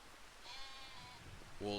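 Sheep in the farming game Farming Simulator 25 give short bleats, faint and low in the mix, with a clearer bleat at the very end.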